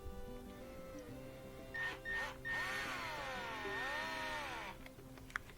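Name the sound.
removing a Torx T20 screw from a truck fuel rail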